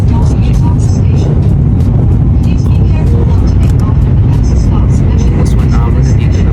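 Steady, loud road traffic rumbles near Gala Yuzawa, Japan, in snowy weather, a dense continuous drone of passing vehicles with scattered higher noises on top and voices talking over it.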